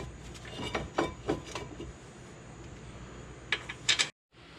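A socket ratchet clicks in short bursts while wheel bearing bracket bolts on a 2008 Buick Lucerne are tightened, the close metallic clicks scattered in two quick groups before it falls silent.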